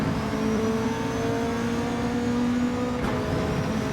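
Car engine in Gran Turismo 7 racing a Beetle, a steady droning rev held over the whole stretch with a quick shift near the end, loud and close with no talking.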